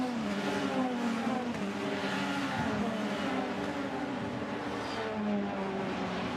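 A race car powering out of the left-hand Surtees corner, engine note climbing steadily under continuous load, loud and sustained throughout with no talk.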